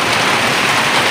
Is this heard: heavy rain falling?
yes